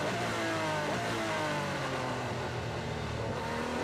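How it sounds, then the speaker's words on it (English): A Formula 3 single-seater race car screams past at the Macau Grand Prix, its high-revving engine loud and close, pitch sweeping through gear changes with no talk over it. "But that's a proper single-seater noise, isn't it?"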